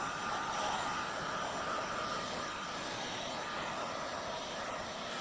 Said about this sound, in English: You'll notice how close I have the heat gun to the surface area.